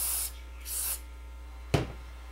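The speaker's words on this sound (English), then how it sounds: "Give it a final spray to get any residue off of it." Aerosol spray cleans residue off a brake shoe in two short, close hissing bursts, followed by a single sharp click.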